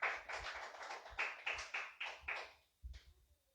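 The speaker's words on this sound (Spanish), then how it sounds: "dele fuerte aplauso al Señor" Church congregation clapping in rhythmic, evenly spaced bursts that fade out, followed by a few faint taps in a quiet room.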